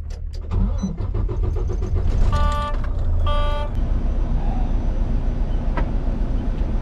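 A tandem-trailer truck's engine cranks and starts, then settles into a steady, deep idle rumble, with a couple of short electronic beeps partway through.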